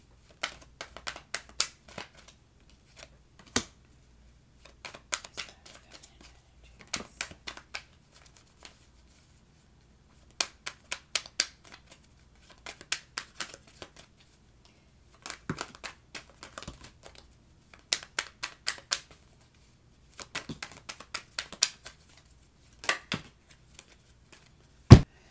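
Tarot cards being shuffled by hand in repeated bursts of crisp riffling and snapping, separated by short pauses, close and fairly quiet with no talking.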